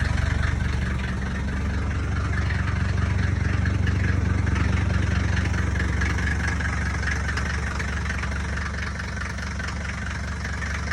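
A Mercedes 300GD diesel engine idles on a chilly morning after a cold start, a steady close rumble with a rough knocking clatter, loud and unbroken with no talking.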